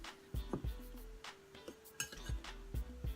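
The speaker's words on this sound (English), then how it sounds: "Stirring, stirring." A damp, sandy bath bomb mixture being stirred in a bowl, with a steady series of light clinks and scrapes of the utensil against the bowl, close and quiet with no voices.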